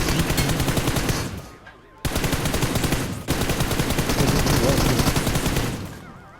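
Sustained automatic gunfire in the battle royale game PUBG on the Erangel map, dense rapid bursts filling the clip with brief gaps, loud and close.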